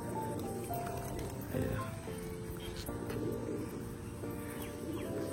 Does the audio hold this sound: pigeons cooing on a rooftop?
yes